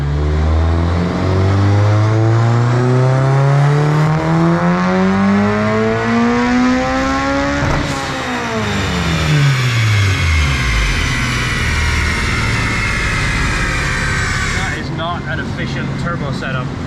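A Mugen Honda Civic Si engine revs up loudly through climbing gear sweeps, drops briefly around the midpoint, then climbs again before easing off, the engine note close and dominant throughout.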